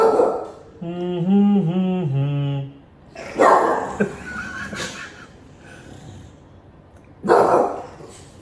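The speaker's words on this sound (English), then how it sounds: "So when I'm humming, they are barking." A person hums a wavering tune, followed by a few loud, separate bursts of bulldogs barking, with quiet gaps between them.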